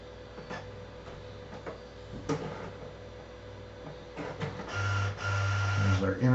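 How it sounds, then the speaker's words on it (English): A printer works beside network equipment in an office, first with soft ticks and clicks, then with a loud low whine and mechanical drone near the end. Someone talks over it. "printer whining behind me here."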